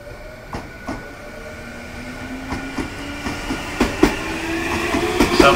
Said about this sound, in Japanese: 3番線には各駅停車と動物公園が参ります。